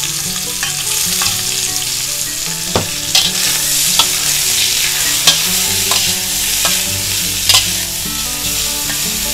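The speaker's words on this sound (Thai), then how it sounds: "ใส่กระเทียมลงไปค่ะ เราก็ใส่แฮมลงไปค่ะ" Garlic and ham stir-fry in a hot pan for macaroni, a loud continuous sizzle broken by occasional scraping stirs, with no voices.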